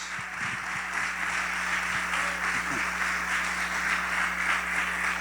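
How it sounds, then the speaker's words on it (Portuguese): Church congregation applauding during an evangelical service led by a bishop, a steady dense wash of clapping throughout, with faint low voices underneath. "tuas palmas glorificam a Jesus"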